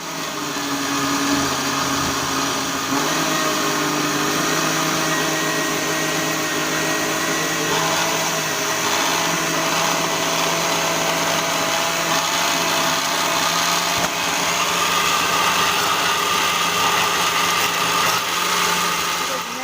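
An electric blender runs steadily and loudly, whirring through banana, apple, milk and fenugreek for a fruit juice. The motor drone holds constant from start to finish, and faint talk sits underneath it.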